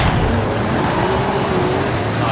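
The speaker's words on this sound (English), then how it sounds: "start it up, full gas it, see what it does" Mercedes-AMG GT Black Series engine held at full throttle in Forza Horizon 5, a loud steady roar that stays constant throughout with no pauses.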